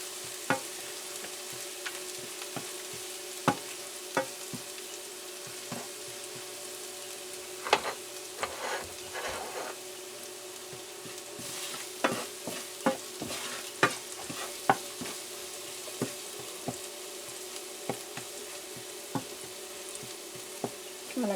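Vegetables and pork for a lumpia filling are stir-fried in a pan, a soft steady sizzle broken by frequent sharp clicks and scrapes of a utensil, close and moderately quiet, with no talk.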